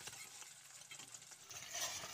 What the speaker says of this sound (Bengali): এবার উল্টে পাল্টে নাড়াচাড়া করে লাল লাল করে কিন্তু ভেজে নিতে হবে